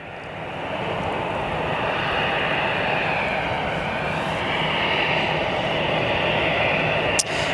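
A plane flies over O'Hare Airport at sunset, its engine roar a loud, steady, continuous wash that holds for the whole stretch, with one brief sharp click near the end.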